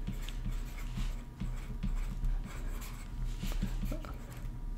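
Chalk or marker scratching across a board in a differential equations lecture, a run of short, close strokes over a steady room hum with no talk.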